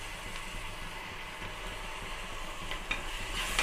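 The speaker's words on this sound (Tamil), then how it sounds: "இது கூடயே ரெண்டு ஸ்பூன் இஞ்சி பூண்டு விட்டு சேர்த்துக்கலாம்" Ginger-garlic paste fries with sautéed onions in a pan for cauliflower biryani, a steady close sizzle with soft stirring scrapes throughout.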